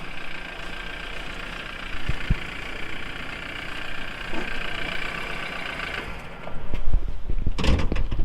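A BMW 3 Series F30 four-cylinder petrol engine idles with the bonnet open, giving a steady, diesel-like clattering hum, with a few sharper knocks and shuffling noises near the end.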